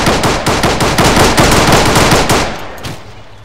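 Rapid, loud machine-gun fire in ARMA 3, a close sustained burst of evenly spaced shots lasting about two and a half seconds before tailing off into echo, with no speech.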